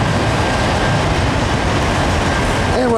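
A long southbound CSX manifest freight train of empty rack cars, led by ES44AC locomotives, passes close by near Dalton with a loud, unbroken roar and rattle of wheels on rail.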